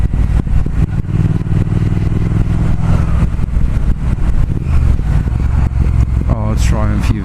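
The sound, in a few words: 2019 Triumph Speed Twin motorcycle engine while riding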